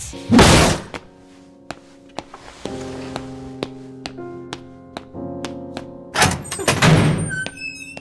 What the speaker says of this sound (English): instead of Kiryu hitting the table, he slams it